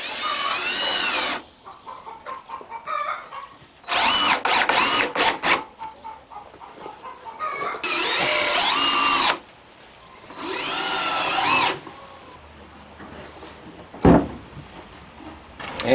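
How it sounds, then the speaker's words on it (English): A power drill whines in repeated bursts, spinning up and bogging down as screws drive into pallet wood without pre-drilling, with short pauses and clattering between runs. "I'm not pre-drilling any of these holes."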